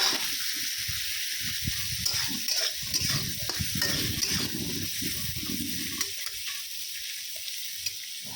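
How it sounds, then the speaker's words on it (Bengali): Carrots and chickpeas fry lightly in a pan for a salad, a dense continuous sizzle and hiss under busy, scraping stirring strokes, close and fairly loud throughout. "দেখুন গাজরের ছোলাটা দিচ্ছি, একটু হালকা ভাজা দিচ্ছি।"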